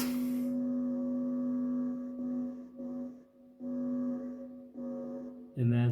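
A guitar cable's steady electrical buzz from a finger touch, played reversed, with a strong low hum that swells and cuts off in uneven blocks, ending with a sudden swelling burst.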